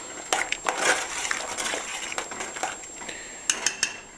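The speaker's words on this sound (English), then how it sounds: "There, just a quick stir just to keep it from sticking to the bottom or burning." A spoon stirs chili in a covered pot with soft scraping and clinking against the metal, followed by a few sharp taps near the end, with no voices.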